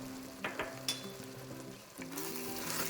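Spice powders fry with onions and tomatoes for a one-pot chicken curry, a close, soft hiss broken by a few scraping stirs of the spoon, with the sizzle swelling louder toward the end.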